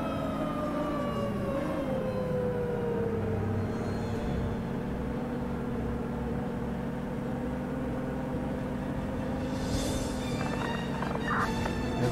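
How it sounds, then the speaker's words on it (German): An emergency vehicle siren wails faintly in the distance outdoors, its tone slowly sweeping over a steady rumble of nearby traffic and wind, with brief higher chirps near the end. "man hört die Sirene immer noch laut und deutlich."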